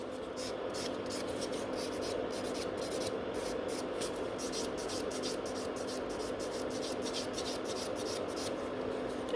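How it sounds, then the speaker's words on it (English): A nail buffer rubs around the cuticle of a fingernail during a Halloween manicure, a soft, close, rhythmic scratching of quick repeated strokes that runs steadily, with no talking. "I also like those buffer because I can get really nice around the cuticle area."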